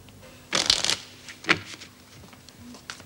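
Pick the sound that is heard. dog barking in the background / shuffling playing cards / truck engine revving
shuffling playing cards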